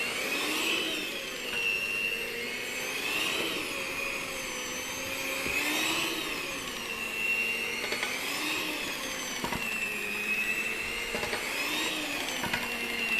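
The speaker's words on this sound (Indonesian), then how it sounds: "untuk mixer jangan ditekan di dalam adonan ya" Electric hand mixer beating donut dough, a steady loud motor whine that rises and dips in pitch in slow waves as the beaters work through the dough, with no talk over it.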